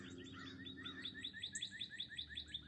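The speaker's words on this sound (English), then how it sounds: "so I'd rather hear the birds chirping." Birds chirping outside in the early morning, a repeated rhythmic series of bright quick tweets from one nearby bird over a quiet background, with softer calls from others.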